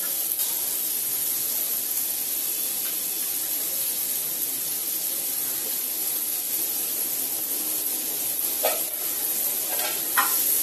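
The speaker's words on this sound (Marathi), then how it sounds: "हे आपण आता परतून घेऊया" Onion, tomato, carrot and cauliflower sautéing in a pan give a steady, loud, close sizzle throughout, with a few brief scraping stirs near the end and no voices.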